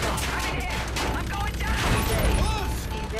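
Rapid gunfire from ships in the video game Call of Duty Infinite Warfare, a dense, continuous volley of shots and booms mixed with game effects, loud and sustained, with a person talking over it.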